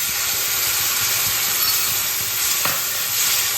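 Dry spice paste frying in hot oil in a pan for a Bengali mourala fish curry, a loud, steady sizzle with faint stirring scrapes underneath, close and continuous.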